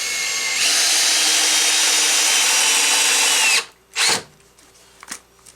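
A cordless drill drives a 2.5-inch construction screw into wood for about three seconds in one continuous loud whir, followed by a short burst and a couple of faint clicks.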